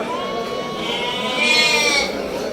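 A Bandur sheep lamb at a sheep market gives one drawn-out, wavering bleat, close and fairly loud over a busy background.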